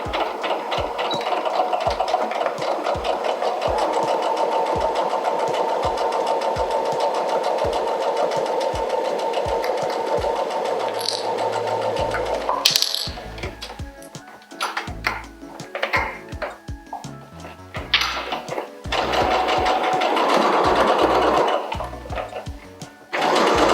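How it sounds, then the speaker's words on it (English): Domestic sewing machine stitching a dressmaking seam, a fast steady mechanical whirr with rhythmic needle thumps running for about twelve seconds, then stopping and starting in short bursts for reverse stitching and securing the seam, loud and close. "I'm going to line up the foot, set off and do a little reverse at the start again to secure the stitching"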